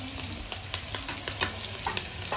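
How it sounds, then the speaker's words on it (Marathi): Green chillies and curry leaves fry in hot oil for chicken biryani, a close, busy sizzle with crackles and small pops scattered across the short stretch, no talking. "ग्रीन चिल्ली आणि त्यानंतर थोडा कढीपत्ता आपण तळून घेणार आहे"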